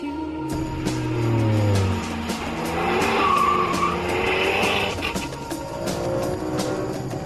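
A Ferrari 599 GTB engine roars and revs at speed with tires squealing, the pitch rising and falling as it drives hard, loud and close.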